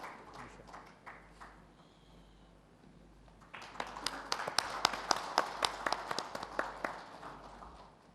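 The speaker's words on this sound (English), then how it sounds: "Can we have a big round of applause for our panelists?" Conference audience in Gurgaon applauding panelists at an HR conclave, starting with scattered sparse claps and then swelling into brisker, louder clapping from a small group in the hall, no talk heard.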